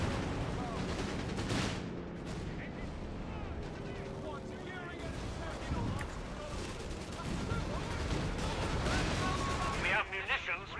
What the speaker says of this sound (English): nice airstrike